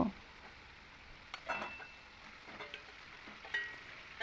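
Fried pointed gourd sautés on low heat in spice paste, giving a soft, faint sizzle with a few light stirring knocks and scrapes of a spatula against the pan.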